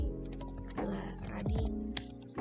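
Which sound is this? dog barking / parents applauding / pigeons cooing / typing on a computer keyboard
typing on a computer keyboard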